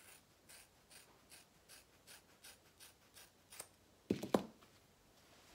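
Scissors snipping through a loose deep wave frontal wig, cutting the hair at an angle: a run of soft, evenly spaced close-up snips, then a brief louder burst of crisp clicks near the end.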